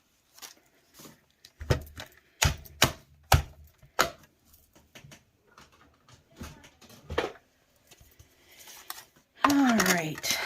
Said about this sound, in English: let's bring out our die cutting machine here